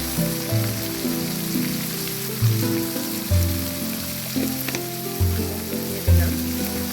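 Chopped onions and green chilies with a pinch of salt and turmeric sizzle steadily in a hot pan, broken every second or so by dull thumps and scrapes of stirring, close and continuous with no voices.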